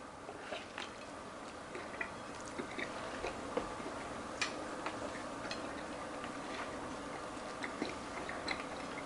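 Someone bites into and chews a homemade air-fried fried chicken sandwich, a steady run of soft crunchy chewing clicks close to the microphone, with no talking.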